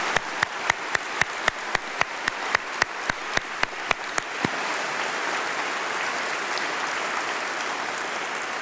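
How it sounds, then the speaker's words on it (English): Audience at a university summer congregation applauds new doctoral graduates: a run of evenly spaced single claps quickly swells into sustained, dense clapping from a large crowd in a hall, steady and fairly loud with no talk over it. "And I think all the doctors need a huge round of applause."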